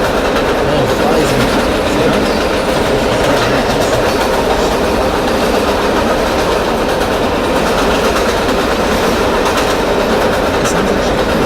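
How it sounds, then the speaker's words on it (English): Subway train running in the OpenBVE train simulator game on the 4 Line, a loud, steady rumble of motor and wheels on track that holds without pause throughout. "It sounds like the subway."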